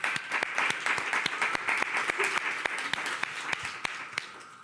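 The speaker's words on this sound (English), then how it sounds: "Let's give him a round of applause, everybody." A moderate round of audience applause, with distinct sharp individual claps standing out over a steady wash of clapping and a faint crowd murmur beneath.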